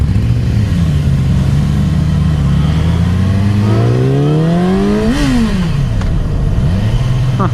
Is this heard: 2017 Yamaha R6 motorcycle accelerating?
yes